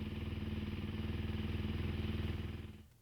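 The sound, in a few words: dirt bike engine started with kickstart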